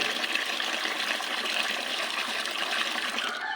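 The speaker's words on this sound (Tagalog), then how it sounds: "Lagyan natin ng tubig." Water pours steadily into a bucket of insecticide mix being prepared as a mosquito spray, a continuous loud gushing splash that runs unbroken from start to finish.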